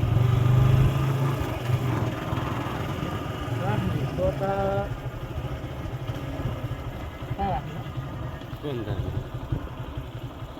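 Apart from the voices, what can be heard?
motorcycle engine idling while looking for parking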